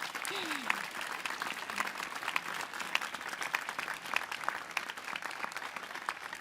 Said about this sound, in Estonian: Teeme neile veel ühe aplausi.